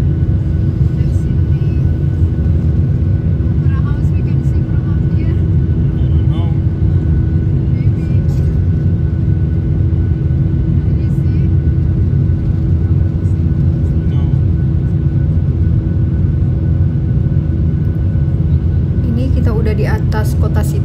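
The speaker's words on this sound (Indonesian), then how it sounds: "Dan ini kita take off" A deep, constant rumble fills an airplane cabin as the jet takes off from Sydney, with faint scattered clicks and a brief voice near the end.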